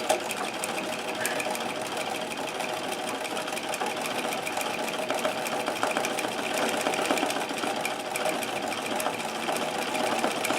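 A Singer 237 treadle sewing machine stitches at a fast, even pace, its rapid mechanical clatter running continuously and fairly quietly with no talking.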